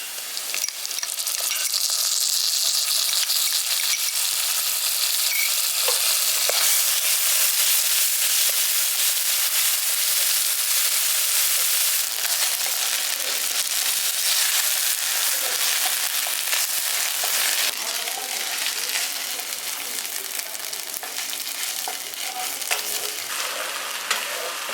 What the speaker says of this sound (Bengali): এখানে আদা রসুন আর পেঁয়াজটাকে ভালো করে ভেজে নিয়েছি।